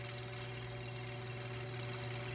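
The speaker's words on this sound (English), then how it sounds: "This fan actually moves quite a bit of air." A Marvin Model 1015 10-inch single window fan runs at full power with a loud, steady whirring hum and a constant airy rush that never changes.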